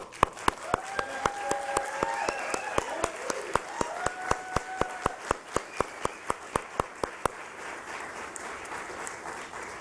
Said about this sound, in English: Certainly worthy of a round of applause